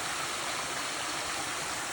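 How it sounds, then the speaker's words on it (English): Creek water rushes over slippery, wet rocks in a creek bed, a steady close-up wash of flowing water with no voices. "I am following this creek bed, and so there's lots of rocks over here that are slippery, wet,"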